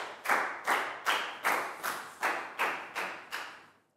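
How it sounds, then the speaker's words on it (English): A class of children in a school health lesson claps together in eight sharp, evenly spaced unison beats, close and crisp, each clap fading quickly before the next. "Big round of applause for Pangpon, guys."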